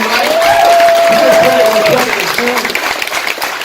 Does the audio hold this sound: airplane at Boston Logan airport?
no